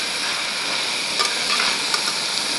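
Vegetables for a veg biryani sauté in a hot pan, a steady bright sizzle and hiss with a few soft stirring scrapes, heard close and alone without speech.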